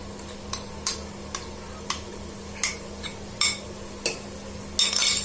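A spoon stirs whisked yogurt into frying masala in a pan on a medium flame, made for Bakra Eid mutton gurda kaleji. Irregular metallic clinks and scrapes sound against the pan over a low, steady background hum, with no talking.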